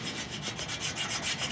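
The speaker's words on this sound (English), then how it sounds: "I just take a regular old gum eraser, and I just kind of re-sand my sandpaper" A gum eraser rubs back and forth over sandpaper clogged with wood dust, making a soft, steady scrubbing sound with a gentle repeating pulse, close up and alone.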